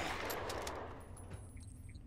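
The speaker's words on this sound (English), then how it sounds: "Dr. Lee, get behind cover of, you know, bullets." Gunfire rattles in a battle in Fallout 3, a dense, fairly quiet wash of rapid shots that thins out into scattered distant cracks.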